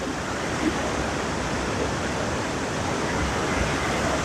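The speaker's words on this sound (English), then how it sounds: "I know this is not the falls, but this is beautiful in itself. This is more like a cascade." Water cascades steadily along the Fern Branch Falls trail near Crosby, Tennessee, a broad, dense rush that stays close and loud without pause, with no talk over it.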